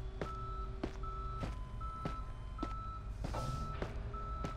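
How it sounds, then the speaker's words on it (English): A tow truck's reversing alarm beeps in the Police Simulator video game, a steady series of about eight evenly spaced electronic beeps over a low engine rumble. "Tow truck's on scene for them."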